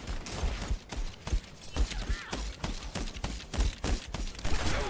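Ashe's lever-action coach gun in Overwatch, firing repeated heavy shotgun blasts mixed with other gunfire and mechanical clatter in a busy game fight.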